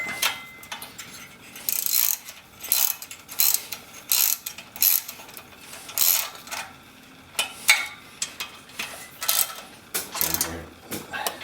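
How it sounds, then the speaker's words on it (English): A torque wrench ratchets and clicks while tightening bolts on a Ski-Doo Formula SL Rotax 503 top end rebuild, a series of close, sharp mechanical bursts with short pauses between, no speech. "You just start cranking out the bolts. And you hear the click."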